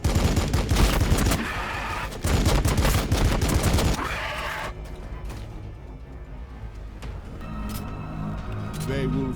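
Loud bursts of gunfire from units in the Blood Angels strategy game Battlesector, with heavy rapid volleys up front that cut off, then quieter mechanical clanks. A voice speaks over the battle.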